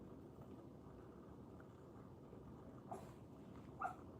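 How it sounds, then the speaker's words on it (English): A sleeping dog having nightmares lets out a few faint, high whimpers over a steady low household hum, two short squeaks near the end. "My doggy's having nightmares."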